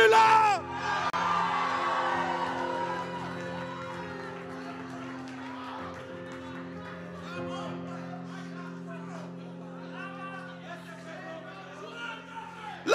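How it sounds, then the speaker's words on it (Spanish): A church congregation shouts for joy during a fiery service, starting with a loud burst of crowd cries and whoops that then settles into continued voices over a steady sustained musical drone. "da un grito de júbilo"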